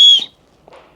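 A loud, shrill emergency whistle sounds in one brief blast up close, followed by a faint clack and rustle of handling.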